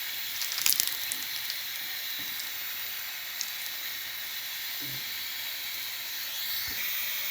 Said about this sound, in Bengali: এই পাশে পাশে একটু ভেজে নিব, লাল লাল হলে খেতে ভালো লাগবে